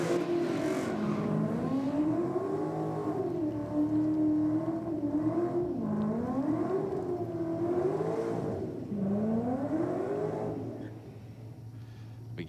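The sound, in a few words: Holden GTS and VE HSV racing, burning rear tyres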